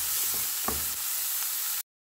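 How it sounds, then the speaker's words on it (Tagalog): Onion sautéing in a hot pan, a loud, dense sizzle that fills the scene with a brief stir partway through before cutting off abruptly. "maglalagay lang tayo ng sibuyas. Gisahin lang natin."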